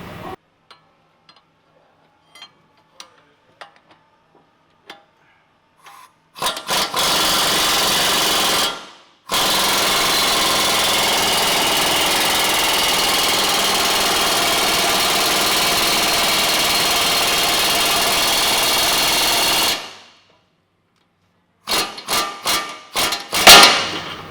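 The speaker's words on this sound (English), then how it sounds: "we're going to hold the side of the nut and basically just press it out" A front wheel bearing is pressed out of a 2010 Honda hub. Scattered taps lead into a loud, steady grinding drone from a power tool that runs for about ten seconds with a short break, then ends in a few sharp knocks.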